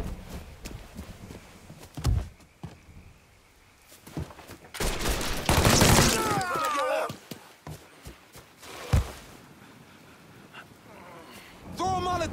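Gunfire in the Mafia 3 video game, scattered shots and a dense burst of rapid fire amid game noise, with people talking and shouting over it.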